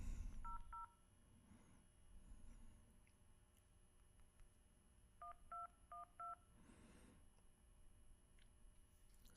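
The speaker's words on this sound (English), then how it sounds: "See if we can get this to dial out." Touch-tone beeps from an iPhone dialing out a number to call information: a short pair of dual-tone beeps at the start, then a quick run of four clear beeps a few seconds later, heard alone over a low background hiss.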